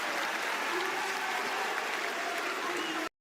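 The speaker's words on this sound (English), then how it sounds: "And the crowd will roar for the Frenchman." An esports arena crowd at a Rainbow Six Siege match roars and applauds, a dense, loud wall of cheering and clapping that holds steadily and then cuts off abruptly near the end.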